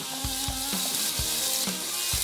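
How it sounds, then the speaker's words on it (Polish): Steady sizzle of onion frying in hot oil, with a few soft knocks or stirs recurring throughout. "I wrzucamy naszą pokrojoną cebulę"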